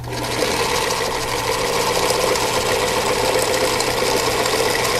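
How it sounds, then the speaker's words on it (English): A sewing machine stitches Double Wedding Ring quilt pieces in a loud, continuous motor hum and rapid needle clatter that runs without a break for about five seconds, close to the listener. "you're going to start sewing right here"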